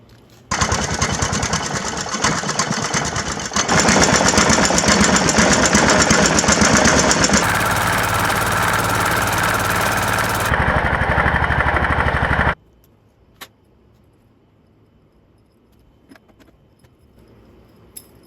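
A John Deere boat engine runs loudly and steadily with a mechanical rattle, its tone shifting twice before it cuts off, leaving near silence with faint clicks.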